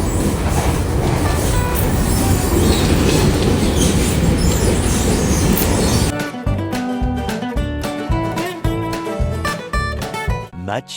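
Riding on a train: a loud, dense rumble of wheels and carriage noise fills the first six seconds, then music takes over and the train sound fades beneath it.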